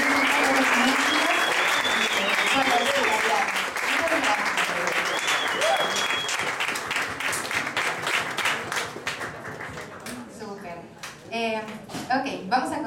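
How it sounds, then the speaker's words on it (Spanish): Audience at a live jazz performance applauds loudly and steadily, with cheers and voices mixed in, then the clapping tapers off as a person begins talking. "quisiera que le diéramos un gran aplauso a Cabus por la labor que hace siempre"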